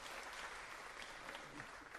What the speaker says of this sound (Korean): 박수 한번 좀 부탁드리겠습니다